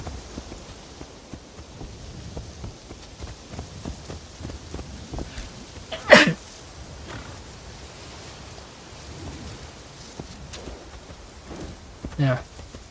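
Two sharp, sudden bursts, like sneezes, about six seconds apart over a low background hiss with faint patter.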